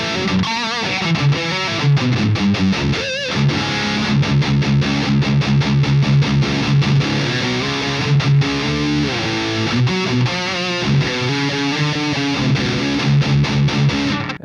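An electric guitar played through an EVH 5150 III EL34 amp on its high-gain channel gives loud, heavily distorted riffs with chugging palm-muted chords and sustained notes, with brief pauses between phrases.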